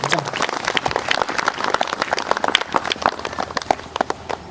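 A crowd at a Christian healing prayer gathering claps and applauds steadily for several seconds, dense, loud and close, with some voices mixed in.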